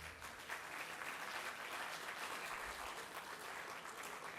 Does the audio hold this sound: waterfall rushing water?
no